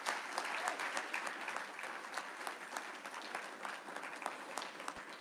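Applause from an audience at a Deputy Governor's award ceremony, a continuous patter of many hands, fairly faint and distant throughout, holding steady without voices.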